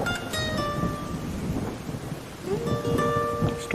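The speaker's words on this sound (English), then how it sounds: "Storm season is rolling into Mexico" Thunderstorm in the racing game Forza Horizon 5, a steady rush of heavy rain with a low rolling rumble of thunder, loud and continuous, with faint tonal game sounds flickering in and out.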